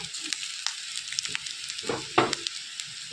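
Ginger-garlic paste fries with a soft steady sizzle in a pan, then coriander paste drops in with a few louder wet splats and scrapes near the end, all fairly quiet and close.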